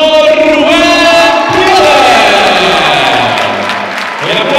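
A boxing crowd in Gijón erupts in sustained applause and cheering after the verdict of an amateur bout. The dense, loud roar of clapping and shouting voices continues throughout, with a voice speaking over the crowd.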